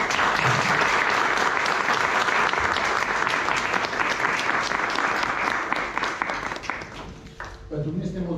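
Sustained applause from an audience at a Romanian commemorative talk on Roma nationhood, dense steady clapping that holds loudly for most of the stretch before thinning out near the end.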